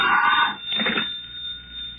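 Late at night in an old radio drama, a telephone bell rings in two short bursts, loud and close, the second bursts fainter, followed by quiet room tone with no talking.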